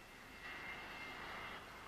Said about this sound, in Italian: L'aereo continuava a volare sopra l'aeroporto senza decidersi ad atterrare.